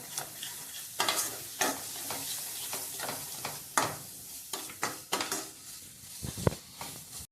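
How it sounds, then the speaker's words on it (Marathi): Mutton masala spices roast in a pan with chili powder and salt, a quiet sizzle punctuated by repeated spatula scrapes and metallic clinks against the pan at an irregular rhythm, close by. "आता हा मसाला चांगला भाजून घेऊया."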